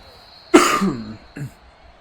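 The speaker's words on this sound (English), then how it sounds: "excuse me if I'm coughing in the video" A man getting over a mild illness coughs once sharply and loudly at close range, followed by a smaller second cough a moment later, against quiet game background hum.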